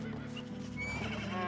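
A horse in the farming game Medieval Dynasty gives a short neigh over a steady low ambient hum, the whinny rising and wavering briefly at close range.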